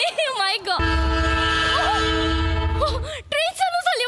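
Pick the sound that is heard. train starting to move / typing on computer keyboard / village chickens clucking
train starting to move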